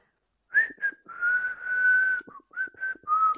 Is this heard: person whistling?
yes